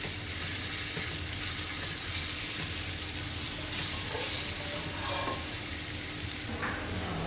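Onions frying for birista sizzle loudly and continuously in a pan, with a dense crackle and occasional faint stirring, and no talking.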